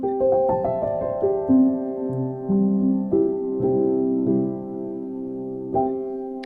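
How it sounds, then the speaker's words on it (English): Spitfire LABS soft felt piano playing a slow sequence of mellow, muted notes and chords in the mid register, close and gentle with soft attacks and lingering decays, solo with no voice. "It's a felt piano. It's very soft."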